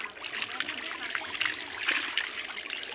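Water pours continuously from a rural tubewell pipe, a steady, fairly quiet gushing trickle with no pauses.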